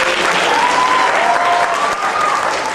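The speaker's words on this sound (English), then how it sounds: "I just, want to give you another round of applause because y'all are all amazing." Dense, steady applause from an event audience fills the space, a loud continuous wash of many hands clapping without a break, a faint whistle or voice drifting through it.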